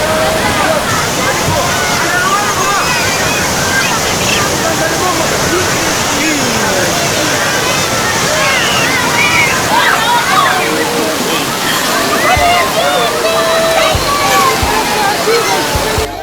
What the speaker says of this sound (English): The floodwater is running at a high speed beyond the danger level.